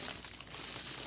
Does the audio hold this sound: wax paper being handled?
yes